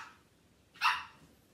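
A single sharp puppy bark rings out close by in a quiet indoor room, one brief bright yap with no talking.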